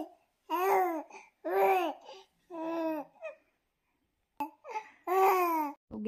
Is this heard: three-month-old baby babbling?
yes